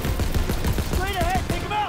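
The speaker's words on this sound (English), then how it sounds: "Oh, yeah, this MG is just mowing these guys" A machine gun in the World War II shooter Call of Duty WW2 fires rapid bursts of rattling shots, with a voice speaking briefly over the last part of the firing.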